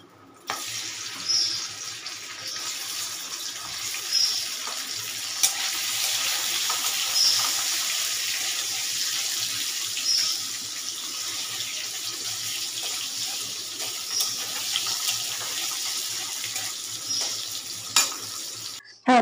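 Paneer pieces fry in oil in a kadai, making a continuous hissing sizzle that runs steadily for the whole stretch, with a few faint clinks and small pops over the top.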